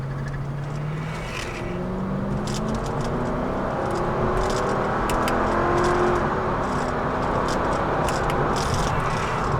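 A Mercedes-Benz C55 AMG wagon engine revs under load while driving, a steady loud rumble with rising and falling pitch sweeps through the run, heard close from inside the car.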